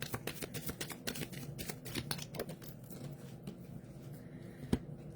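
Tarot cards shuffled by hand in a quick, soft riffling patter of many crisp little slaps, fairly close and quiet, easing off toward the end with one sharper snap.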